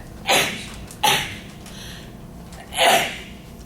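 Three sudden sneezes from a person in an indoor class or meeting, two quick bursts close together then a third after a pause, loud and close against a quiet room.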